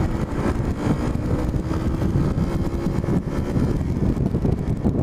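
A car engine is revved hard to the red line in third gear, a loud sustained roar with a steady low drone and no pauses, close to the microphone.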